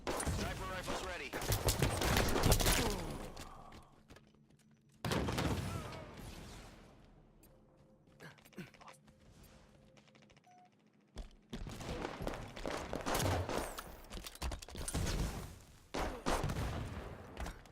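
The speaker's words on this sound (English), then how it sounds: "Sniper fire, moving. Heavy fire." Heavy gunfire and sniper shots from a Halo video game, loud dense bursts at the start and again in the second half, with a quieter stretch between where faint game tones and a voice come through.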